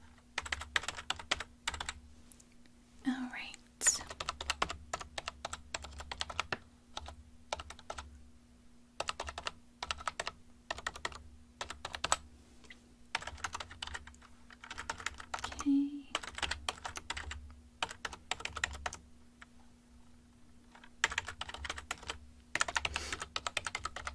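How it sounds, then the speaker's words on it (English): Close, steady typing on a computer keyboard in a quiet convenience-store checkout setting, quick bursts of key clicks separated by short pauses, with a low constant hum underneath. "I'm just going to type in everything for this and get you on your way."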